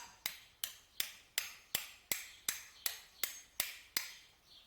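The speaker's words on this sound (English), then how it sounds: "So I'm going to go ahead and give that a little tap." A small plastic lawn mower primer bulb piece is tapped into place: eleven sharp, evenly spaced hammer taps ring out close and clear, each decaying quickly, in a steady rhythm with no talking.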